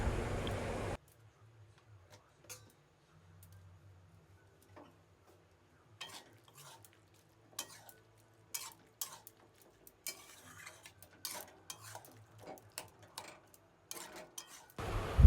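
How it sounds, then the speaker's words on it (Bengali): A spoon scrapes and clinks against a pot in scattered bursts while a papaya dish cooked with ghee is stirred, quiet and close, with pauses of near silence between the strokes. "আর ভালো করে এটাকে আমরা নেড়ে নেব।"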